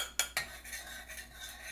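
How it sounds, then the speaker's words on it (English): A metal utensil scrapes and clinks against a pot while flour mixture is stirred into hot oil for enchilada sauce, two sharp taps up front followed by soft, quiet rhythmic stirring. "Now you want to stir this until that red color turns brown"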